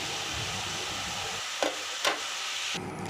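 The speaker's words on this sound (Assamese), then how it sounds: "অলপমান ভাজি লোৱাৰ পাছতে ইয়াতে ফ্ৰাই কৰি থোৱা আলুখিনি দি দিম। দি পিনে অলপ সময় ভাজি থাকিম।" Colocasia fries with spices and fried potatoes in a pan, a continuous hissing sizzle with two distinct utensil knocks before the sound abruptly thins near the end; nobody speaks.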